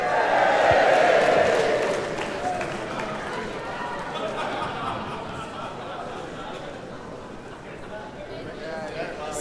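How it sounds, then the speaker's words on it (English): A crowd of Marillion fans at a fan convention cheers for Norway, with a loud burst of shouting and cheering at first, then settles into softer crowd noise and chatter. "The Norwegians, cheer for Norway!"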